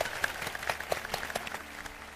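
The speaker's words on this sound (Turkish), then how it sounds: "Alkış." A studio audience on a television competition show gives light applause: scattered, distinct claps that come and go at a fairly faint level, with no voices over them.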